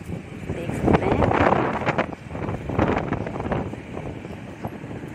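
Wind rushing over a motorbike rider on a morning ride, heard as loud, gusting buffeting against the microphone that swells and eases in waves.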